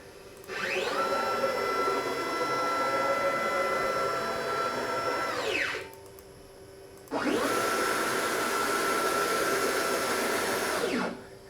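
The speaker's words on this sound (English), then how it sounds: "now what I can do is jog the spindle over to the very center of my blank." A CNC machine carving an electric violin neck jogs its spindle: two long whirring, whining motor runs, each ramping up and then winding down, separated by a short pause.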